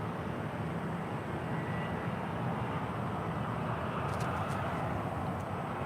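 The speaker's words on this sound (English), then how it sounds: "There's a Falcon 7X touching down" A Dassault Falcon 7X private jet touches down at SFO, a broad, steady roar of jet engine noise that holds at an even level throughout, with a few faint high-pitched ticks near the end and no speech.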